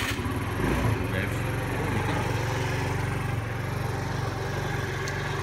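A cheap 50cc moped engine runs up close with a steady, buzzy mid-pitched rev that briefly swells near the start, then settles into an even idle-to-rev drone.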